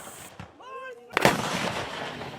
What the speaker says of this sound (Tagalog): Sunod-sunod na putok ng kanyon na maririnig sa dalampasigan ng Burgos, Ilocos Norte.